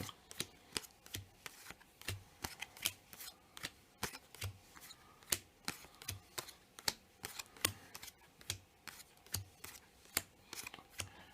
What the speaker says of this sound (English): And now I'm going to shuffle in the hill cards, and like so, shuffle, shuffle, shuffle.